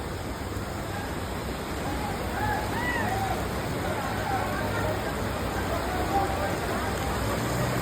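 A steady, continuous rush of rainwater flowing across a road in Nagarkurnool after a day of rain, even and broad, with murmured voices faintly in the background.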